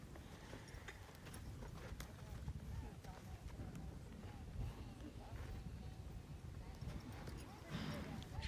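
A horse lopes on the ground, its hooves making a rapid rhythmic clip-clop. The sound is faint and steady throughout.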